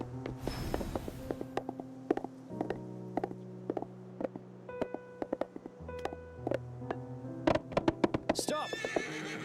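A horse in the video game Silver Palace whinnies loudly in a shrill opening call, followed by steady clip-clop hoof taps and a layer of game music and effects.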